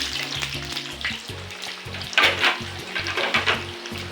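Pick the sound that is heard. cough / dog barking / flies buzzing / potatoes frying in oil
potatoes frying in oil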